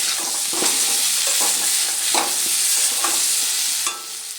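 Hog plums (amra) stir-fried in spices in hot oil for a sour shol fish dish, with a steady loud sizzle and repeated scraping strokes of a spatula, no talk.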